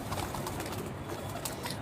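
Pigeons on a home rooftop give soft, repeated cooing against a steady background wash, close and continuous.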